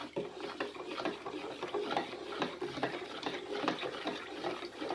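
Salt being stirred into brine for green bean pickle, with a steady run of soft scraping and sloshing close by, light clinks of a utensil against the container throughout, no voices.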